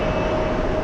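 A Finnair Airbus A330 at JFK airport gives a steady, loud broadband roar with a sustained whine, continuous and unbroken, heard close with no talk.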